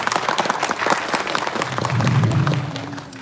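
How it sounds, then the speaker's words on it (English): An audience at a college freshers' meet in Delhi claps for the executive members, a dense, loud burst of applause that swells in the second half before easing off, with a low hum of murmuring voices underneath. "Let us give again a round of applause for executive members."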